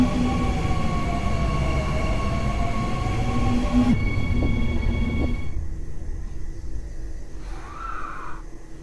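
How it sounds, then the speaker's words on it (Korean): Incheon Line 1 subway train in the Hmmsim2 train simulator game, its motor whine and steady rumble running loud and continuous, then tones shifting and dropping partway through, with a brief rising electronic chime near the end. "열차 출발합니다."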